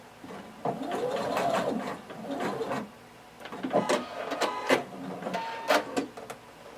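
A sewing machine backstitches while a pair of shorts or pants is sewn, running in short whirring bursts broken by brief pauses and clicks.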